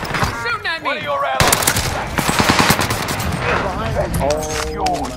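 Loud automatic gunfire rattles in a shooting video game, sustained bursts of shots layered under excited voices talking over the action.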